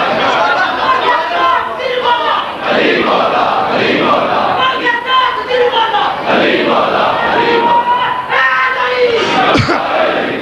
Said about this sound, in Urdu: بیٹے تھکے ہوئے نعرے نہ لگواؤ